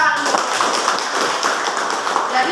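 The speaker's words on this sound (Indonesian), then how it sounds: "Tepuk tangan." Students in a classroom clap together, with a dense, even patter of hand claps running throughout, fairly close and loud, with some voices mixed in.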